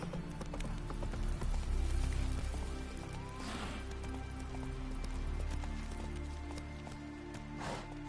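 In a video game, the horse Roach runs with a steady drumming of hoofbeats over a low rumbling background, with a couple of breathy snorts or whooshes.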